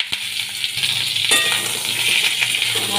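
Ridge gourd pieces fry in hot oil with black cumin and dried and green chillies, giving a steady loud sizzle and crackle, with occasional clinks and scrapes of a utensil stirring the pan.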